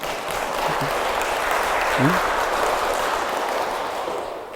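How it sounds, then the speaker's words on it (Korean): An audience claps together during a Catholic parish lecture, a steady, dense wash of applause lasting several seconds with a brief murmur of voices underneath. "박수 한번 쳐야 되는데"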